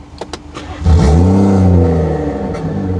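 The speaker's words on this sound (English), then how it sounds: "let's start up and hear how the OEM style sounds" BMW with a stock OEM exhaust, a few faint clicks, then the engine cranks and fires into a loud, steady idle close by, with no voices.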